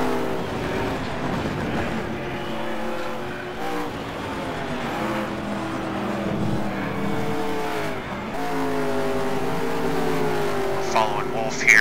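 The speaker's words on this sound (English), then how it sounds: "These cars are on the edge coming around these corners." Race cars cornering hard on an uneven, tire-wearing racetrack, with a steady loud engine roar that rises and falls through the turns, sustained over about twelve seconds.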